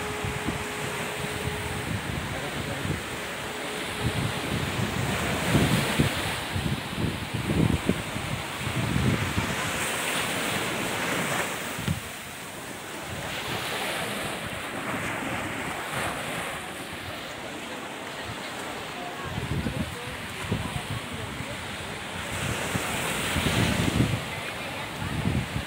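Ocean waves surge and crash at Marina Beach in India, a loud continuous wash of surf with repeated swelling breakers and heavy wind buffeting the microphone, a faint voice occasionally underneath.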